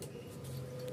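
An HP LaserJet 1020 printer runs while printing a test page, giving a brief, faint, steady mechanical hum with a low droning tone.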